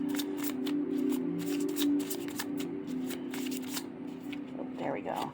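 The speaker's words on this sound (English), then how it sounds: "I can riffle shuffle that" Mini tarot cards are riffle shuffled up close in a steady run of crisp flutters and snaps, with someone talking over the shuffling.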